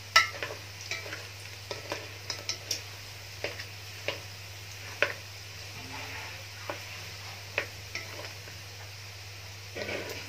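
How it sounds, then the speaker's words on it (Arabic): Sheep tail fat renders down into ghee in a pot, with a soft, quiet bubbling sizzle and regular light taps and scrapes of a spoon stirring, no voices. "نقعد نقلب فيها كده بس علشان كله يبقى واخد اللون الذهبي."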